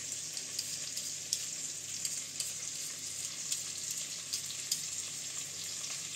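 Pieces of rabbit browning in a pan, a quiet steady sizzle with small crackles and faint pops spaced through the whole stretch.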